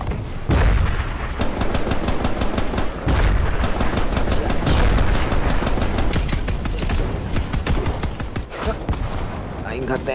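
Rapid bursts of gunfire and booming shots from a stickman video game, blue versus red, rattle densely and loudly throughout, with voices talking over the shooting.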